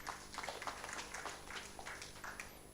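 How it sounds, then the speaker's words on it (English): Faint, scattered applause from an audience at an annual general meeting, a soft, steady patter of many hands, distant and low in level. "let's clap for that."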